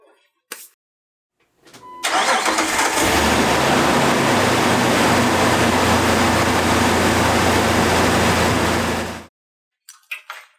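A Jeep Wrangler TJ engine cranks and fires up after a brief pause, then settles into a loud, steady idle close by for about seven seconds before being switched off, with a few small clicks around it.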